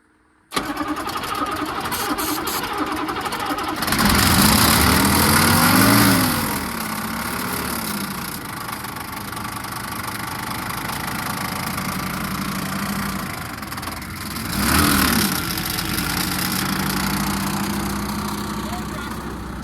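A revived abandoned square body truck engine starts and runs at a rough idle, loud and close with a fan roaring. It swells in two revs, and voices talk over it at times.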